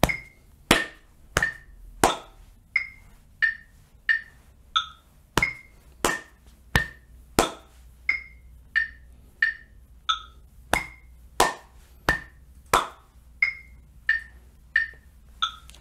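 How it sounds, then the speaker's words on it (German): Body percussion in an alternating chest-slap and hand-clap beat, with crisp, evenly spaced hits repeating steadily, close and clear against a quiet background. "Besteht nur aus Brust, Klatschen, Brust, Klatschen."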